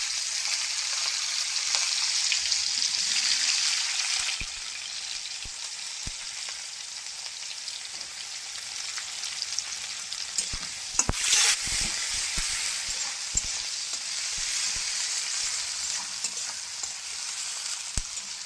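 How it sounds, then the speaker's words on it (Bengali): Onions fry in hot oil with a long, steady sizzle, loud at first and then settling, punctuated by sharp clicks and scrapes of a spatula stirring in the pan. "বন্ধুরা পেঁয়াজ ভাজা হয়ে গেছে লাল করে"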